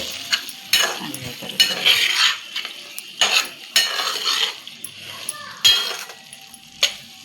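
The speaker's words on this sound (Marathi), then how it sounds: "हे फ्राय केलेले सोयाबीन याच्यामध्ये टाकूया" Fried soybeans are tipped into a spicy masala in a pan, bringing a sizzle with repeated clattering, scraping stirs of a utensil against metal in bursts.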